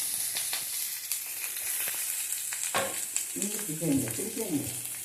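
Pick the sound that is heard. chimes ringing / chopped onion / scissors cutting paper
chopped onion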